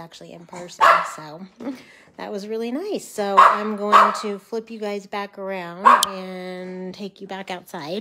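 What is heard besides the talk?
dog barking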